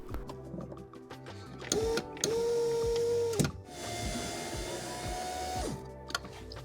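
A Mercedes E-Class power window motor drives a newly replaced window regulator, giving a steady mechanical whir for about a second, a pause, then a longer whine as the glass travels, fairly close and moderately loud.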